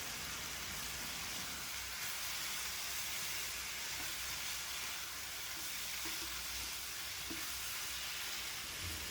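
Tomato chutney ingredients sautéing in a pan, a steady soft sizzle and hiss of frying that holds evenly from start to finish with no voices.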